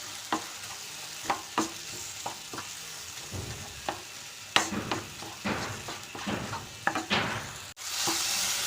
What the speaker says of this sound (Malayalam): തക്കാളി നല്ലതുപോലെ ഒന്ന് വെന്തുടയണം.